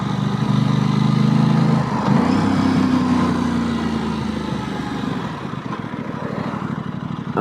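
Aprilia RS660 motorcycle engine droning steadily while riding, loud and close with a sustained hum that shifts pitch slightly and settles toward a rougher, lower note, with no talk.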